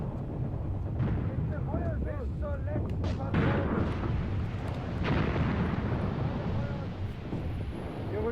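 Mortar fire in the WWII tactics game Graviteam Tactics: Mius Front, with heavy booming blasts and rumbling impacts landing close, over steady wind-like battlefield noise, while someone talks.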